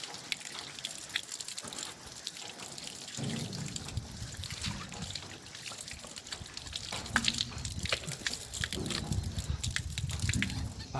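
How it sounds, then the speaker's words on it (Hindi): Running water trickles and splashes steadily as someone washes hands and face before entering the Pandava cave, a continuous close gush with hand splashing, and no talk. "अब मैं अपने हाथ धो लेता हूँ और मुँह भी धो लेता हूँ"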